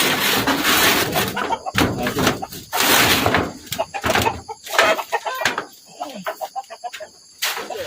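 Chickens clucking in a coop kept in a garden deep in the forest, a busy mix of close, loud clucks and squawks with a door knock, under someone talking.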